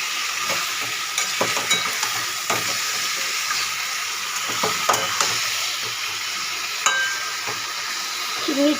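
Meat drops into hot oil with fried onions and spice paste in a home kitchen and crackles and sizzles steadily while a spoon scrapes and stirs it in irregular clicks, close up.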